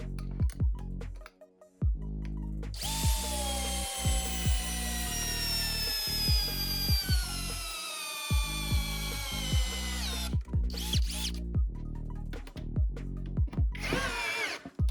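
Pro-Craft cordless screwdriver driving a large 200 mm screw into wood, the motor whining loud and steady for about seven seconds as its pitch slowly drops under load, with short bursts and clicks before and after.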